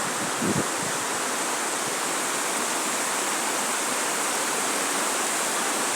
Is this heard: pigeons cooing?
no